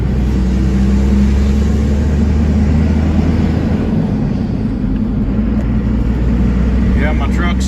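A Dodge six-speed pickup with a 5.9 Cummins turbo diesel drones with a steady, loud low rumble and constant road noise throughout, pulling a hay bale bed on a fall hayride.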